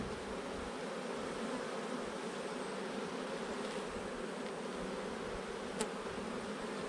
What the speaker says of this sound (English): Gonna have a bee population in here 2-3 weeks.